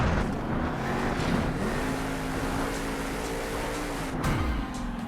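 A monster truck in Monster Jam roars as its engine holds a steady loud drone, rising slightly in pitch while accelerating, then dropping off near the end amid rough rumbling noise.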